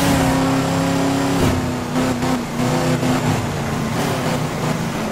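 A car engine revving in the video game Midnight Club 3 Dub Edition Remix, loud and close, with a steady droning tone that dips and climbs through gear changes.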